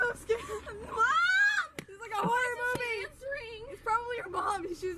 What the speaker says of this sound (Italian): E continua ad urlare.